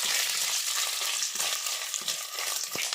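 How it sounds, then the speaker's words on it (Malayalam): Onions, shallots, potatoes and green chillies fry in a pan for a traditional Kerala-style chicken curry, giving a steady close sizzle broken by scraping stirs. "ഇതെല്ലാം കൂടെ നമുക്ക് ഇതിനകത്തിട്ട് നന്നായിട്ട് മൂപ്പിച്ചെടുക്കണം."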